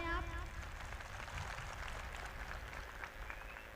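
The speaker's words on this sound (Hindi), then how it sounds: "एक बार जोरदार ताली बजाएं आप।" An audience applauds at a speech during a Hindu community gathering, a steady, fairly faint wash of clapping lasting the whole moment with some room echo.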